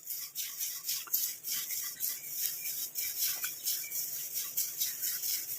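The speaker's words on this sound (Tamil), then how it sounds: "நம்ம இந்த மாதிரி தொடர்ந்து நல்லா இப்படி கிண்டி விட்டுக்கிட்டே இருக்கிறதுனால கருவேப்பிலையெல்லாம் ஒரே மாதிரி நிறம் மாறி வருது பாருங்கள்" Curry leaves are stirred steadily in a hot iron kadai, giving a continuous dry, rhythmic scraping and rustling, close and fairly quiet, with no voices.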